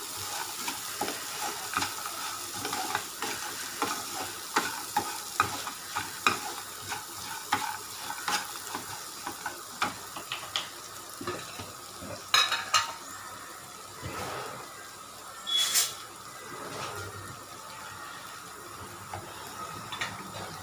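Lemon rice seasoning stirred in a hot pan: repeated scraping and clinking of a utensil against metal over a soft, steady sizzle, close and without talk.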